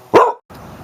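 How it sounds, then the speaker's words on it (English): A pet dog gives a single sharp bark close by, then stops, leaving only a low, quiet room background. "if you can see in the background, that's my dog Vegas."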